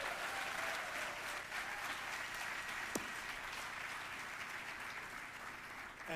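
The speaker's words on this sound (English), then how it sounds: "let's give all our faculty and staff a round of applause" Audience at an awards celebration applauds faculty and staff, a steady wash of many hands clapping at moderate distance, fairly quiet overall with one sharp clap standing out midway.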